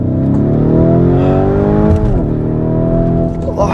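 Lamborghini Urus, a 650-horsepower 4x4, accelerating hard on an Alpine road, a loud rising engine roar that climbs in pitch, dips at a gear change, then climbs again.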